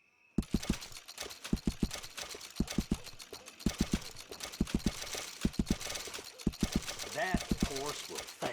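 Horse hooves clip-clop in a steady walking rhythm in the Red Dead Redemption video game, close and fairly loud, with faint background ambience and a brief whinny-like tone near the end.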